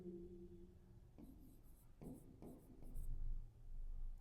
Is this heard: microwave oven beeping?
no